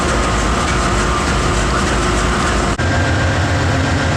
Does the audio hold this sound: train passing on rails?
yes